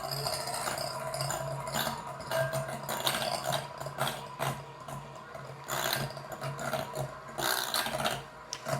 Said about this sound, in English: we're going to start by creaming some cream cheese, for about a minute, just to loosen it up